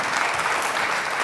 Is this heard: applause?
yes